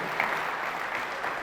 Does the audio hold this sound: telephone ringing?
no